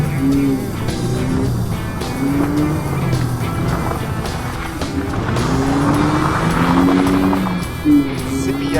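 A Mazda Miata launches hard in a drag race, its engine note rising steadily through the gears with repeated upshifts, tire noise and oversteer, loud and close, with a voice briefly heard over the engine.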